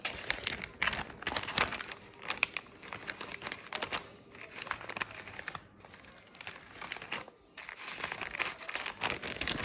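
A dry sheet of nori seaweed is handled up close, giving continuous crisp crinkling and rustling with brief pauses and no talk.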